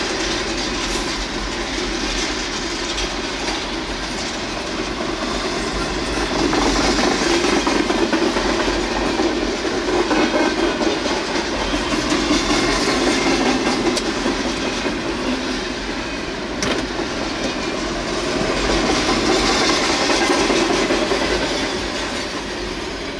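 A long Norfolk Southern freight train rumbles past close by, steady wheel clatter and rolling noise swelling and easing over time, with no voices.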